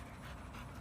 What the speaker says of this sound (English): This is a good dog.